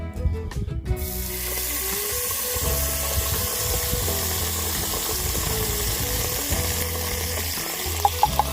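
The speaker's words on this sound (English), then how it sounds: "I'm gonna take this this garlic, lemon, and basil, and go ahead and get that going first" Garlic, lemon and basil sizzle steadily in a pan over a wood-fired grill, with a constant frying hiss and a few light clinks near the end.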